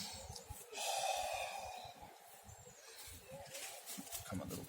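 Deep, audible breaths drawn in and pushed out during a hip-opening stretch for recovery, knees open and chest lifted, close and fairly loud with a steady in-and-out rhythm and no talk.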